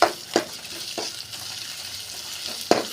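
Green chilli, curry leaves and onion sautéing together in oil in a pan, a steady hiss of frying with a few distinct spatula scrapes, close and moderately loud.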